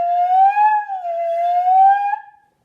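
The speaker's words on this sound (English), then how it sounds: "if I play it without the rest of the flute, it sounds kind of funny. I can even make funny sounds like this." A flute head joint, played without the rest of the flute, gives a thin, airy whistling tone that slides up and down in pitch in a wavering, playful way before cutting off, heard alone and clearly.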